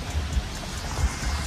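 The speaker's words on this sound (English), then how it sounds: "this rain do feel good" Steady rain falling outdoors, a continuous broad hiss with low rumbling gusts, close and even throughout with no voices.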